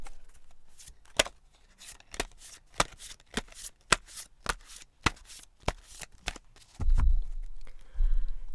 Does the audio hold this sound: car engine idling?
no